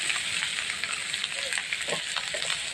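Chili, coriander, cumin and turmeric powders fry in hot oil for a winter matar paneer with peas: a steady, close, dense sizzle with faint scraping of a spatula, no voices.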